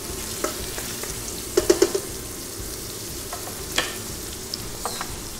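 Garlic and onion sizzling in a hot pan while being stirred, a steady crackling fry broken by a few scraping knocks of the spoon.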